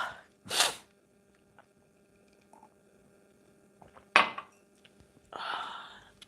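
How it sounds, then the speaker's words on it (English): A sharp burst at the start, then a single forceful sneeze midway, followed by a softer breathy exhale in an otherwise quiet room. "I'm about to sneeze on live"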